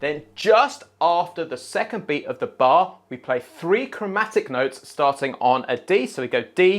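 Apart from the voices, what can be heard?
No everyday noises stand out.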